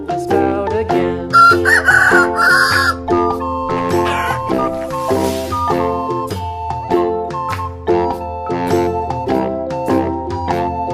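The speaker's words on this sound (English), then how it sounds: "Chicken." A rooster crows over a children's nursery song, its call rising briefly amid loud, rhythmic sung music with piano-like tones throughout.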